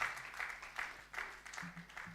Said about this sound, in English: Just clap your hands as this gentleman comes here.